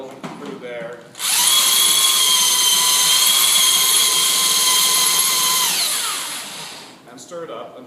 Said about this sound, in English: Put the drill through there.